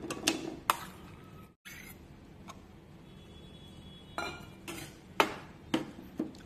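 Washed chicken pieces go into an AMC cookware bowl for chicken nuggets, heard as a few sharp close clinks and knocks with quiet gaps between them.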